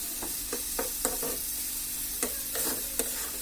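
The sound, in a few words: dried fish (shutki) frying and being stirred in a pan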